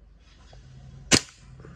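A WE M4 CQB version 3 gas blowback airsoft rifle fires a single semi-auto shot with 0.2 gram BBs: one sharp, loud crack with a short tail, set against quiet background hum.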